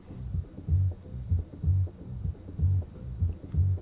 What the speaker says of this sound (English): it definitely adds a bit of distortion to create some additional harmonics